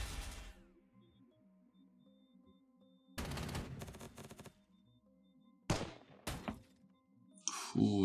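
Artillery return fire in the turn-based video game Panzer Corps 2, heard as several separate bursts of booming shots and crashing impacts between quiet stretches with a faint low game hum.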